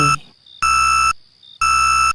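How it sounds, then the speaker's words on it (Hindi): A loud cartoon alarm blares in steady electronic beeping bursts, three sustained blasts separated by short gaps, with no voices over it. "जोर जोर से अलार्म बजने लगता है"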